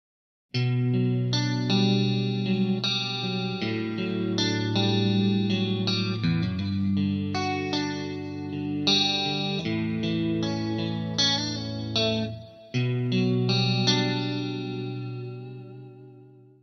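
A clean electric guitar plays a flowing chordal phrase through a Marshall JTM45 amp, warm and sustained with a light shimmer, steady and alone.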